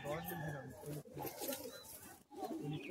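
Madrasi high-flying pigeons coo softly in low, rolling bursts, heard up close and partly covered by someone talking over them.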